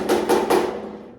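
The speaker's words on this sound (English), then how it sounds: "we want to take our hammer and we want to hit these high spots" Three sharp metallic hammer strikes on high spots of a dent in the sheet-metal body of a 1974 GMC Suburban, in quick succession, close and fairly loud, each ringing briefly before fading.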